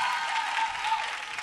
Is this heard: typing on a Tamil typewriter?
no